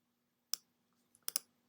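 Sharp clicks from a computer mouse at a desk, one click and then a quick double click a moment later, close and crisp against a quiet room with a faint steady hum.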